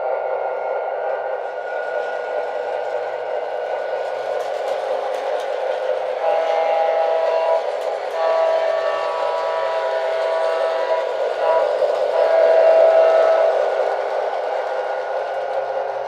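A Lionel toy electric train set runs steadily with a whirring motor hum and a thin whistle tone, continuous and fairly close.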